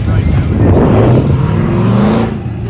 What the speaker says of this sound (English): Look how that stock ass truck running.